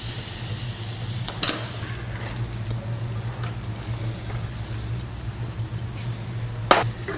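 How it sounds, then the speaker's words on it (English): Onions, carrots and celery sweating in a little butter for a red wine sauce, a gentle steady sizzle under a low hum, with a couple of sharp utensil knocks on the pan, close and without talk. "So I put a little bit of butter, sweat the onions, carrots and celery."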